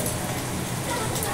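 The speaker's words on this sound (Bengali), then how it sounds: "বাইরে ঝমঝমিয়ে বৃষ্টি পড়ছে" Heavy rain falls steadily outside, a dense continuous hiss and patter that stays loud and even throughout with no breaks.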